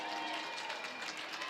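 Parade spectators at Cleveland's Saint Patrick's Day parade applaud the passing U.S. Navy color guard, a faint, dense patter of clapping spread across a distant crowd.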